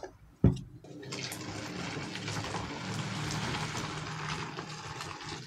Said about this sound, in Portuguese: Agora eu vou colocar aqui o outro litro de água fervendo.